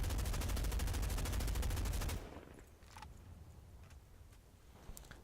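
Rapid automatic gunfire from a weapon in the Medal of Honor Beta shooter game, a loud dense burst for about two seconds that cuts off abruptly, followed by quieter ambient game noise with a few faint distant shots.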